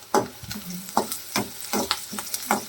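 Sliced large onions, salted, fry and sizzle in a pan in a home kitchen while being stirred, with close, rhythmic scraping strokes over a steady hiss.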